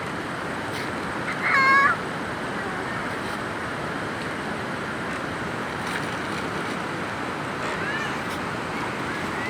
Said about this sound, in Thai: มันตรงเนี้ยนี่แมว